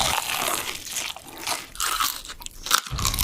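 Close, loud crunchy bites and chewing of fried chicken wings, a run of crisp crackling crunches repeating in uneven bursts with short pauses between mouthfuls.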